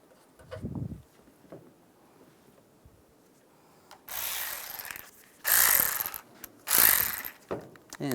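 A ratchet snugging down bolts on a 2007-2013 Chevrolet Silverado bumper end, giving several close bursts of rapid clicking with short pauses between them and a faint knock early on.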